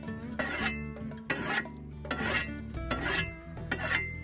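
Metal file rasping along the edge of a shovel blade being sharpened, several rhythmic, gritty back-and-forth strokes, close and fairly quiet, with no talking.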